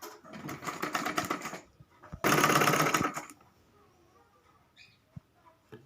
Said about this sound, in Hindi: इस पे ये गोल्डन वाला कपड़ा रख के इस पे सिलाई कर लेंगे।